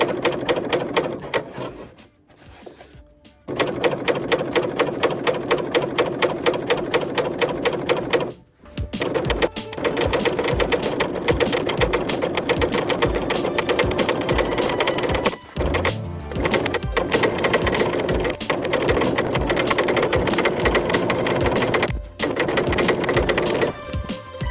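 A sewing machine stitches a gather stitch on a tiered skirt (McCall's 8150 pattern), running in fast, steady, close-up bursts of stitching with a few brief pauses.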